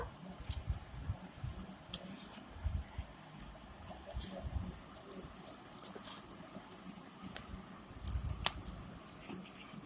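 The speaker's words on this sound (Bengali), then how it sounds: "এই আলুটা আমি একটু মাখিয়ে নেব।" Boiled potatoes being mashed by hand for Bengali fuchka filling, giving close, wet squishing and soft squelching that repeats irregularly throughout, with a few sharp clicks above.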